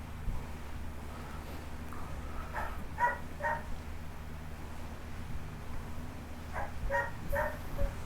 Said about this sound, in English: Stop barking, Baba.